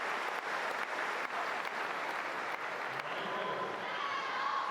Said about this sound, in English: watching nervously but applauding the points